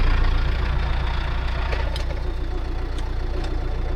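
A Land Rover Perentie engine idles steadily, a loud, close, low rumbling throb with a slight knocking texture that holds constant throughout, without talk.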